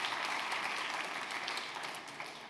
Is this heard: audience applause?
yes